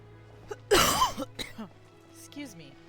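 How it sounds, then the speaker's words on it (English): A person indoors at night gives one harsh, loud cough followed by a few shorter throat-clearing rasps and grunts, close and alone without speech. "at night I get on here and all of a sudden I'm coughing my head off"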